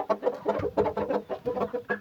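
A breeding pair of Aseel chickens, a rooster and a hen, cluck repeatedly up close in a rapid, uneven series of short, moderately loud calls with no talking.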